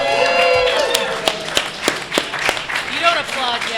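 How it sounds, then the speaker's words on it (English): Audience applause at a live comedy podcast show in Portland: scattered, sharp hand claps from the crowd, moderately close, running under a voice speaking over them. "You don't applaud yet, you damn dirty dwarf."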